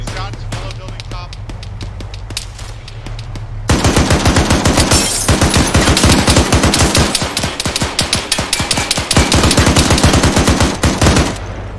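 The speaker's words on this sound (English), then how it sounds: "Shots, yellow building top." Rapid automatic gunfire in an Arma 3 military operation, loud continuous bursts of shots, quieter at first then dense and heavy, with occasional voices among the firing.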